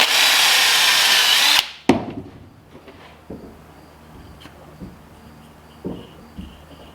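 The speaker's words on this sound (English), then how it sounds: "I'm gonna drill through a piece of wood to see if it's the right size." A power drill whines loudly for over a second drilling through wood and stops abruptly, followed by quiet clunks and handling noises.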